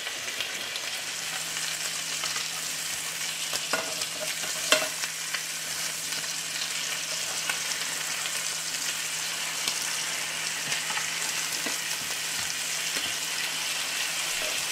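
Filet mignon medallions wrapped in pork belly fry in a hot pan with a steady, close sizzle and crackle throughout, with occasional small pops and no talking.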